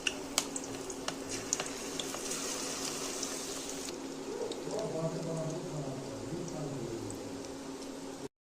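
Onion pakora batter with green chilli being stirred after a splash of water goes in, a soft wet squelching and sloshing that runs steadily close by, with a few sharp clicks of the spoon early on and no voices.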